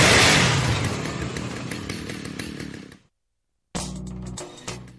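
Chainsaw in the zombie-killing video game Lollipop Chainsaw revs loudly for about three seconds, falls silent briefly, then roars back with a harsh buzzing drone.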